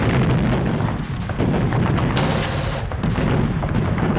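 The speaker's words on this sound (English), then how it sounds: "As landing craft approached the main beach, they were met by withering fire." Dense, loud gunfire and booming artillery rage during the D-Day landing on the Normandy beaches in World War II, with continuous overlapping shots and blasts.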